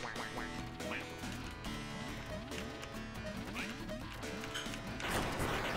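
Cartoonish duck quacks come from a video game, a rapid run of nasal calls mixed with crashing and thwacking effects, loud and busy throughout with no talk.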